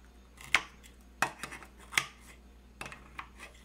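Scissors snip the ends off an innkeeper worm in a few sharp, close cuts spaced about a second apart. Fainter rustling and handling follows, with no talking.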